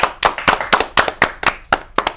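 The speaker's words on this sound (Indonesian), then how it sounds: "Wes, tepuk tangan dong, Bang." A small group claps at the start of an Indonesian comedy talk show, about nine sharp, fairly regular claps over two seconds, close and clear with no talking.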